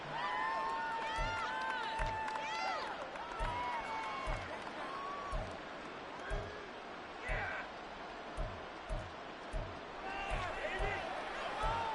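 Football stadium crowd in a Madden 24 game roars steadily as a constant wash of noise near the end of a close game, with rhythmic thumps beneath and a commentator's voice talking over it.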